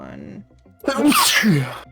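A single sharp sneeze bursts out loud and close after a moment of quieter talk, with a broad noisy blast followed by a short voiced tail.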